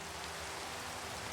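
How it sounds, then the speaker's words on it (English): Heavy rain falls in Minecraft, a dense, even hiss of steady downpour with no voices, faint and continuous. "And it's raining heavily."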